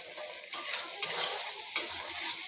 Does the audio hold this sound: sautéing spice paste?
yes